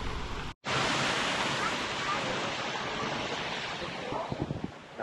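Roaring waterfall along a Korean bike touring route, a dense, steady rush of falling water that stays loud and close, broken only by one brief cutout.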